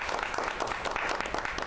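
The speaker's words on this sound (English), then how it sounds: "let's have a round of applause" Studio audience applauding steadily throughout for two presenters of a truck bed trash can on a television pitch show, dense even clapping with no pauses.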